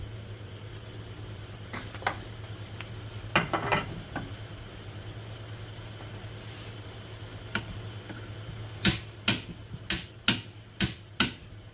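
A Dongcheng DCPB488Z cordless brushless impact wrench set to 500 Nm, giving a fast run of sharp, loud clicking hammer strikes near the end, after scattered faint ticks over a steady low hum.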